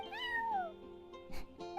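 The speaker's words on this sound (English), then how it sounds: "that's my neighbor's cat" A cat meows once, close and clear, in Genshin Impact, a drawn-out falling mew followed by a short softer chirp, alone without talk.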